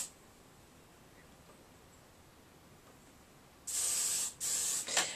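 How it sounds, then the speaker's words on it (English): Hairspray from an aerosol can sprays onto a retro 1960s hairstyle in three short hissing bursts near the end, close and loud after a long quiet stretch. "So we're just going to spray it with some hairspray."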